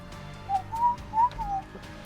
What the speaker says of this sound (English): Whistling is totally on point.